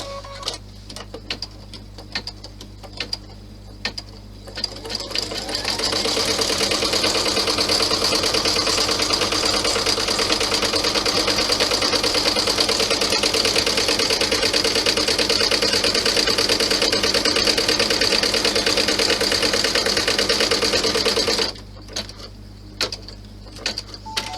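A sewing machine runs a satin stitch on a fabric bow purse, starting with a few clicks and then humming in one long, steady, close whir for about sixteen seconds before stopping.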